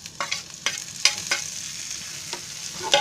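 Tomatoes frying in a pan with garlic and curry leaves over low gas for egg bhaji, a soft steady sizzle broken by several sharp stirring scrapes, close and without talk.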